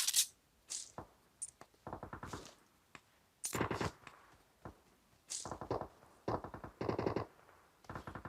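Rapid bursts of automatic gunfire crack out during a firefight in the video game PUBG, several separate volleys of rattling shots with short gaps between them, fairly close and loud.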